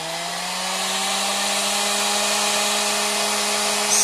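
A vintage Pifco Hi-Speed Model 1050 hair dryer runs with its heat setting on, a loud steady motor whine with a constant airy rush that holds evenly throughout, alone with no voices.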